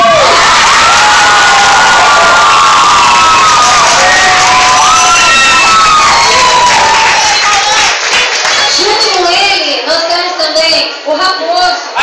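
A large audience at a sarau evening bursts into loud, sustained applause and cheering, with whoops and children shouting in the mix; voices carry through the crowd noise, which thins slightly toward the end.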